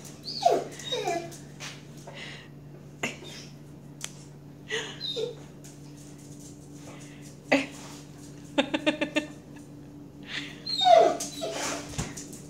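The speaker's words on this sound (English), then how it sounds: "Your puppies are being naughty" Dogs whimper and yip in soft, high bursts over a steady low hum, with occasional clicks and taps between cries.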